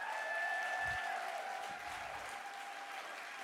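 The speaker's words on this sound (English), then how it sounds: "give those wonderful suffragists a round of applause for their courage" Crowd applause at a Women's Equality Day event in West Hollywood, a sustained dense roar of clapping from many people, steady and moderately loud, with a faint tonal hum running underneath.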